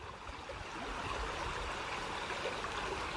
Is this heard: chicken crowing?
no